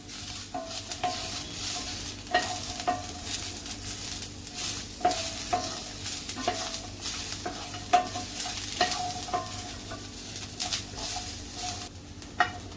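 Grated coconut and onion roast in a pan for a sprouted green moong curry masala. A spoon stirs and scrapes over and over against a soft, steady sizzle, quiet and close, with no voices.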